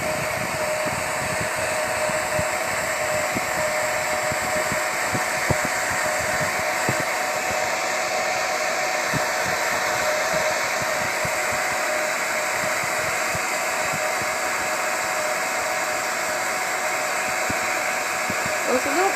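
Hair dryer running on low heat, blowing over poured acrylic paint; a steady whooshing drone of airflow and motor holds evenly through the whole stretch, close and constant, with no talk over it.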